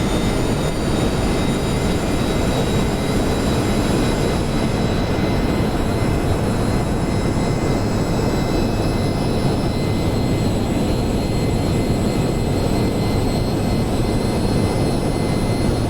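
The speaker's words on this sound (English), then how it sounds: "Full afterburner set." Simulated jet engines of a B-1A bomber at full afterburner for takeoff in a flight game give a constant, loud, broadband roar with a faint high whine, unbroken for the whole stretch.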